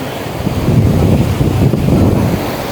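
Sea waves at Old Digha beach during the monsoon season. They make a loud, close, rushing surf wash that swells and ebbs, with heavy wind rumble on the microphone.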